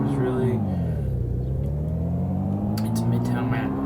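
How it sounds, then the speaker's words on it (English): A car engine drones steadily in the driving video game PollyTown Madness, its pitch dipping and then climbing again as the car slows and speeds up, loud and continuous throughout. "So let's just get back in my car. It's faster."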